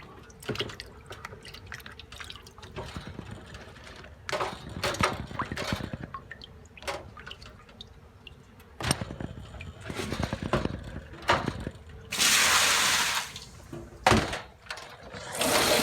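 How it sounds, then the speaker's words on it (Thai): Tap water runs into a sink as fresh vegetables are rinsed after a soak in vinegar water, with splashing, dripping and clattering that swell toward a louder gush near the end. "แล้วเราเปิดน้ำนะครับ แล้วก็ผักลงไปล้างครับ"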